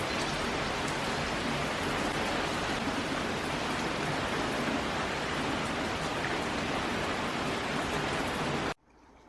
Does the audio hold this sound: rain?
yes